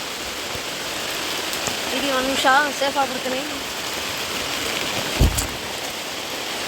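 Heavy rain falls on an areca nut plantation, a constant broadband hiss of downpour close by, while someone speaks briefly partway through and a sharp knock sounds near the end.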